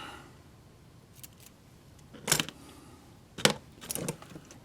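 A few quick snips of scissors cutting Kapton tape, close and crisp, with short pauses between cuts in an otherwise quiet room.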